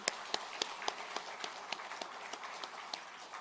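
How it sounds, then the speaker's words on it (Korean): At a New Year's Day service, a church congregation in Yeosu claps, heard faintly and from a distance as evenly spaced, sharp claps over a soft murmuring background. "우리 하나님께 감사와 영광의 박수를 다시 한번 올려드리겠습니다"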